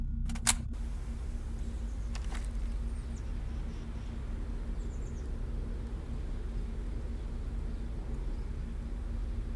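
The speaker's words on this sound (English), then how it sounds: "Changing mags." In the shooter Vampire Hunters 3, a gun magazine is swapped with a couple of sharp mechanical clicks early on, followed by a quiet, steady background hum.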